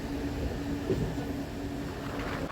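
MEMU electric train on the Santragachi–Jhargram route running along the line, a continuous low rumble with a faint steady hum, heard from inside a nearly empty coach.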